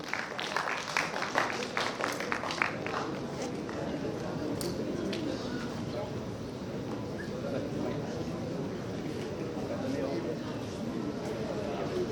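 Audience applauding at an award ceremony during an international pharmaceutical conference, a burst of clapping that settles into a steady crowd murmur and softer applause continuing throughout.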